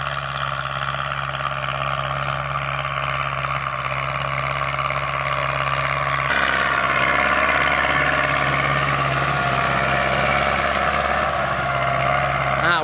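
A farm tractor used for plowing rice paddies runs with a steady, droning engine hum and a low rumbling tone, holding a constant idle-like pitch that shifts slightly midway and continues without pause.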